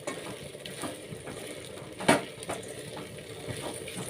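Okra tossed and stirred into a peanut tempering in a pan, giving a soft, steady scraping and sizzling with one sharper clatter midway, heard fairly close and without talk.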